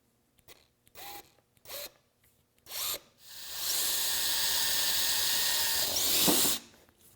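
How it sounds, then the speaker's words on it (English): A power drill pre-drills screw holes while clamps are fitted to a sliding table saw, with a few short whirring bursts followed by one long, loud, steady drilling run that winds down near the end. "So what I'll do is pre-drill the holes."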